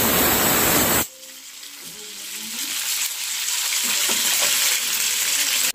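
Whole fish, bones left in, frying crispy in a pan, with a loud hissing burst in the first second that settles into a steady, quieter sizzle.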